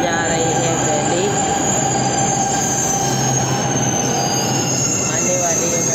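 A Delhi Metro train moves through Kashmere Gate station with a loud, continuous roar and high wheel squeal over steady rumbling, filling the platform with dense, unbroken noise.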